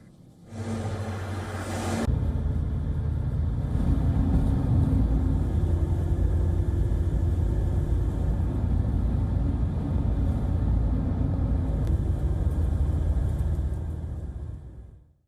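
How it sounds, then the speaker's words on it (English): A convoy of Thai military vehicles drives toward a border front line, making a loud, steady low engine rumble that builds in quickly and holds nearly unchanged for several seconds before cutting off. "Thailand deployed convoys of military vehicles towards the front line."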